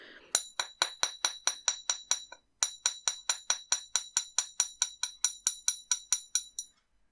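A small riveting hammer taps on jewellery wire for wire-wrapped drop earrings, giving steady rapid metallic clinks with a bright ringing quality, close and quiet, with one brief pause in the even rhythm.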